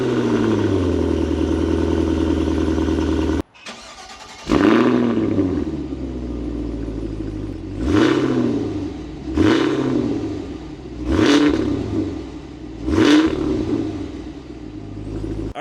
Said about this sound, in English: let me do a startup on this and show you how this thing sounds